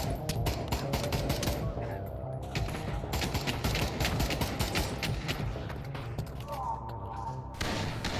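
Gunfire in the VR shooter Pavlov VR, played multiplayer on an Oculus Quest 2: dense, rapid automatic bursts and single shots crackling almost nonstop, loud and close, with a voice talking underneath.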